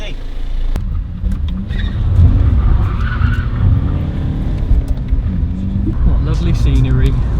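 A cheap used BMW car skids with a loud, sustained engine roar and tire noise running throughout, while people talk over it.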